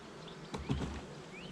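Honey bees buzz around a beehive used for making up helper nuclei for production colonies, a faint outdoor hum with a brief closer swell of buzzing midway and a fly-by whine.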